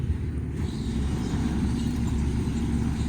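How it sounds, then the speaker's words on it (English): A module truck loading cotton modules onto its bed with chains, heard as a steady low engine rumble that runs close and continuous throughout. "This is a module truck."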